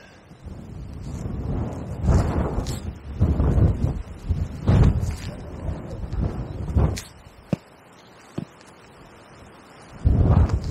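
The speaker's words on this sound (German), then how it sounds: "Ziemlich windig hier" Gusts of cold wind buffet the microphone in heavy, irregular bursts on the Kleiner Zschirnstein in Saxon Switzerland, separated by quieter lulls and a few sharp knocks.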